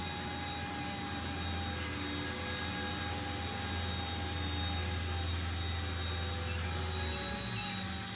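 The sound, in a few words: RC helicopter rotor blades spinning in the breeze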